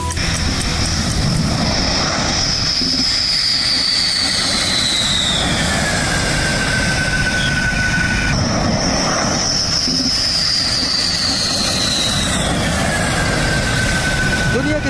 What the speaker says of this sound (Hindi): कल गुजरात के जामनगर में 3 राफेल विमान डायरेक्ट फ्रांस से वहां पहुंचे।